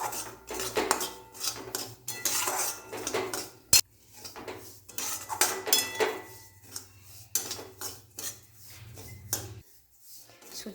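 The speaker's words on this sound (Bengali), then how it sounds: "সুজিটা অল্প আঁচে অনেকক্ষণ ধরে আস্তে আস্তে ভাজতে হবে, যেন সুজিটা পুড়ে না যায়।" Semolina slowly fried in a pan over low heat, with repeated scraping and clinking of a metal spoon against the pan in uneven bursts, close and fairly loud, pausing briefly near the end.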